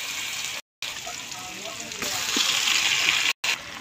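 Olives dropping into hot oil with garlic in a pan set off a steady, close broadband sizzle, briefly cut by two short silent gaps and growing slightly louder toward the end.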